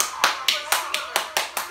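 A few people clap in short bursts, roughly five sharp, evenly spaced hand claps close by, during a reaction to a dance performance.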